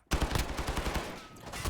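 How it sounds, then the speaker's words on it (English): Rapid gunfire from a 9mm Makarov pistol in Modern Warfare 2019, a quick string of shots close by that carries on steadily for the whole short moment. "Your body armor does nothing against 9mm Makarov."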